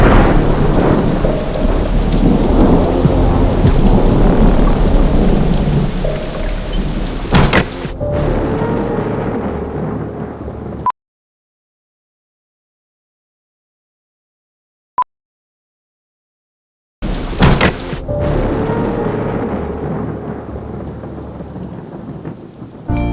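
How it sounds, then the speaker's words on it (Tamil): Heavy rain pours down with rumbling thunder in a Tamil mystery thriller scene. The downpour cuts to silence midway, then resumes loud and steady, with no talking. "வெளியே இவ்வளோ ஜோரம் மழை பெஞ்சிட்ருக்கு"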